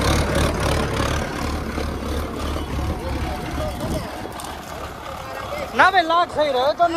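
A tractor engine hums low and steady in the background for several seconds, then fades as people talk loudly nearby.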